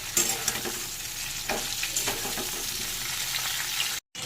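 Bay leaf and white cumin tempering are stirred in hot oil while cooking a vegetarian potato and cauliflower curry, giving a steady close sizzle with several sharp spatula scrapes and taps, then a brief dropout at the end.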